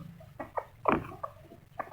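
Soft, scattered clucks from a Burmese fighting rooster nearby, a few short calls in quick succession with one slightly louder burst in the middle.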